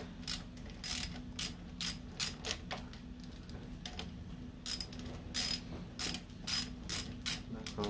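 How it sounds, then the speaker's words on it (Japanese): A 10 mm ratchet loosens a bolt on a Kawasaki Balius motorcycle while a broken clutch lever is replaced. Close, crisp bursts of rapid clicking repeat in quick strokes with no talking. "10ミリのねラチェット持ってきたんで、でね、パパッと取ってみまし"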